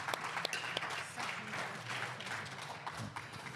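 A small audience at a classic powerlifting championship claps after a failed lift, steady scattered applause with a few sharper claps, faint and a little distant.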